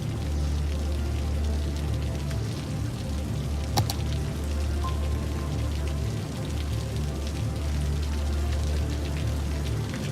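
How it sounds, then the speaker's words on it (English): Steady rain falls in a city-building video game, a dense constant hiss with soft patter and no voices, holding an even level throughout. "Oh, rain it is, rain it is."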